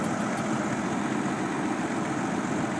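A car engine idles steadily at close range, a continuous low rumble with a faint vibrating hum that holds even throughout, with no talking.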